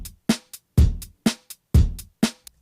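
A programmed drum loop laid over a sampled track: punchy kicks and crisp snare hits alternate in a steady, loud groove, each hit decaying quickly, with no voices.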